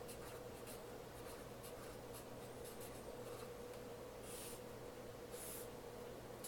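Pen or pencil scratching steadily across paper while numbers for a decimal multiplication problem are written out, a soft continuous scribbling close by over a low steady hum.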